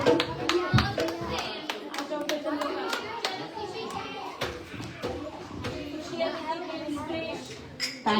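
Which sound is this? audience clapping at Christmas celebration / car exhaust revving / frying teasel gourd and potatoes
audience clapping at Christmas celebration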